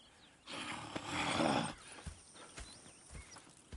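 Horses in the western video game Red Dead Redemption II, a close snorting whinny swelling and fading, then scattered hoof clops and faint soft sounds.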